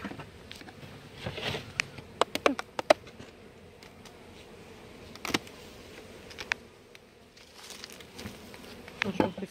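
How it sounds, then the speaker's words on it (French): Honeybees buzz around an open beehive during a pre-winter inspection, a close and uneven hum with individual bees zipping past the microphone and soft tapping from handling the hive. "Ouais, c'est des abeilles, c'est pas des bourdons."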